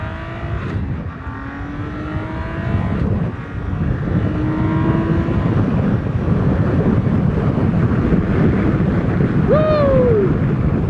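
A BMW K1600B Grand America touring motorcycle's six-cylinder engine under hard throttle, a loud sustained roar rising in pitch through the gears with heavy wind rush, ending in a short rising hoot.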